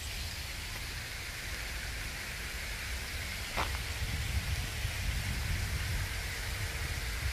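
A heavy September downpour at the Jardin d'acclimatation park hisses steadily and evenly. One brief sharp tap cuts through the rain midway.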